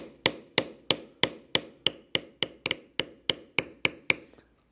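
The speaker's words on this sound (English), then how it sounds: "Now I'm using one of the smaller bevelers to bevel these sharper curves." A metal beveler tool on leather is struck by a hammer about thirteen times in a steady, even rhythm, each sharp tap close and distinct with a short ring.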